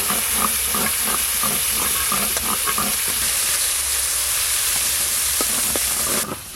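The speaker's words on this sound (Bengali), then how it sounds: "যা আছে একবারেই ভাজা হয়ে যাবে।" Eggs frying in a pan give off a loud, continuous sizzle up close, broken by rhythmic scraping taps of stirring in the first few seconds, until the sound cuts off abruptly near the end.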